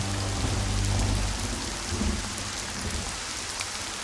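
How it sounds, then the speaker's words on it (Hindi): Steady rain hisses throughout with low, rumbling thunder rolling underneath, strongest early on and easing slightly toward the end. "देखो तो आसमान में बिजली कड़क रही है।"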